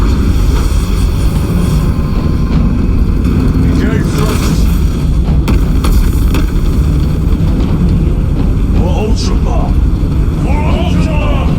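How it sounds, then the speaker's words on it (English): Spaceship thrusters engage in the sci-fi video game Warhammer 40k Space Marine 2, a loud, continuous deep roar and rumble that holds steady throughout, with muffled voices faintly underneath. "Engage thrusters."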